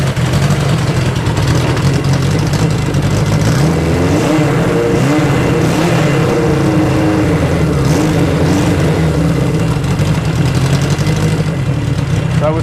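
A Suzuki GS1000 motorcycle engine runs steadily while warming up, a loud, constant close-up idle with a rough low rumble and no change in pace, with faint voices in the background.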